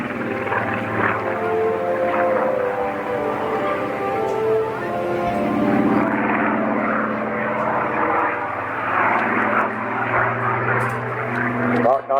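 A Griffon-engined Spitfire flies past at an air show in Swansea, its piston engine a steady, droning hum with shifting tone as it passes, heard beneath ongoing commentary.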